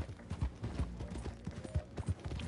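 Hoofbeats of a black Arabian horse in Red Dead Redemption 2 thud in a quick, regular clip-clop rhythm, close and fairly clear, with almost no talk over them.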